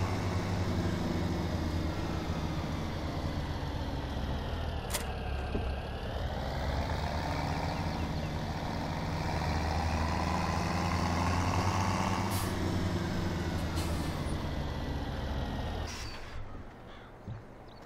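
A pickup truck in Farming Simulator 17 drives with a steady, loud engine drone and low rumble, its pitch dipping and rising slightly as it moves, before cutting off near the end; no speech.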